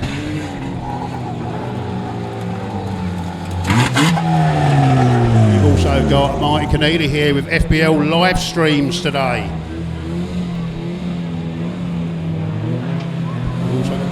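Banger racing cars rolling out onto the track at Stansted Raceway, engines revving and passing nearby with rising and falling tones, under a commentator talking throughout.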